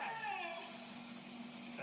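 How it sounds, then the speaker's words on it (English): A cat lets out a drawn-out, wavering, whining yowl, strained and oddly tonal, fairly faint and sliding downward before trailing off. "That's the cat."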